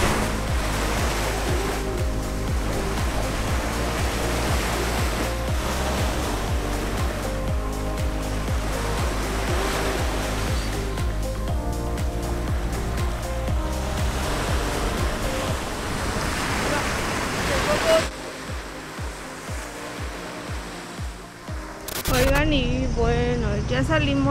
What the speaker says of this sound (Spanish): así se ve el mar en Playa Mamitas